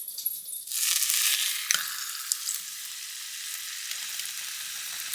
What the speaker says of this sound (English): Okay, we're going to place my steaks in.